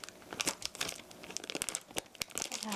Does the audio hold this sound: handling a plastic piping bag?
yes